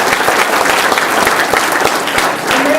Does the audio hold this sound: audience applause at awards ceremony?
yes